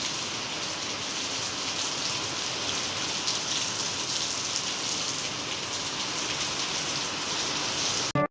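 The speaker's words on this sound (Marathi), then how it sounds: "पण एवढे दिवस झालं पाऊस नव्हता, उघडलंच होता पूर्ण. आता कुठं चालू झालाय." Rain pours steadily at a farm field in the monsoon, making a dense, even hiss with scattered drops hitting surfaces, constant and fairly loud until it cuts off at the end.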